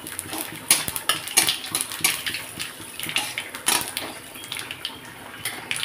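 Nigella seeds hit hot oil already holding fried red dry chillies, giving a close, busy crackle and sizzle dotted with sharp pops and light metallic clinks, with no voices.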